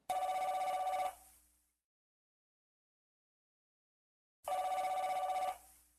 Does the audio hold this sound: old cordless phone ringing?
yes